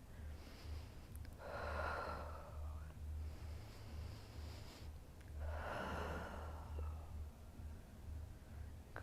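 Slow, audible breaths during a yoga side body stretch: two long inhale-exhale cycles, close and soft, with no talking.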